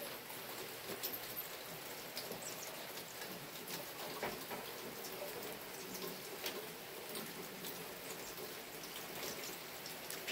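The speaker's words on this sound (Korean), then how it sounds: "비가 오는데 새소리도 들리네요." Steady spring rain falls on a wooded hillside behind a house, a dense, even patter heard without any talk; faint bird calls may sit beneath it.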